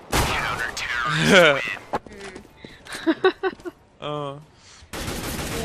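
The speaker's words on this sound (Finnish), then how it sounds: "Ja siellä ammutaankin sua kaukana." Gunfire in the game CS:GO comes from a distance as short, sharp bursts of shots scattered through the middle of the clip, mixed with a person's voice and other in-game sounds.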